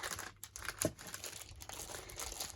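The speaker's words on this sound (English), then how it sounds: "they're in little plastic bags, 4 different sizes" Several small brayers sealed in thin plastic bags crinkle and rustle close by as they are handled, in short irregular bursts with no talking.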